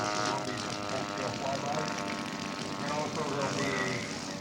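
A 1/4 scale Fokker D7 model aircraft, built from a kit, drones with a steady engine buzz through the whole stretch during a touch-and-go at a scale flying show, with talk running over it.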